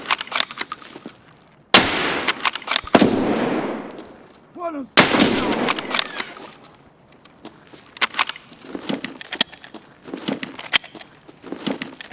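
Gunfire in Escape from Tarkov on the Interchange map: several loud, sharp shots crack out, separated by pauses, with decaying echoes and clattering handling noises between them. No voices are heard.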